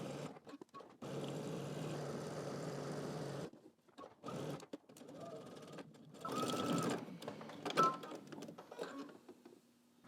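A sewing machine stitches a jacket seam at 5/8-inch seam allowance, including backstitching, running in steady bursts of close, whirring stitches separated by short pauses, with light handling noises between runs.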